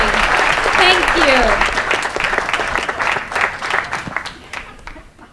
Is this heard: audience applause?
yes